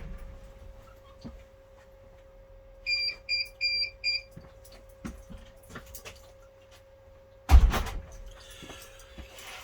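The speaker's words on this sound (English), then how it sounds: "You'll hear the bleep of the DVR, that's why I set the buzzer for you" A quick series of four high electronic bleeps from a DVR buzzer sounds in a quiet room over a steady hum, followed later by a loud thump.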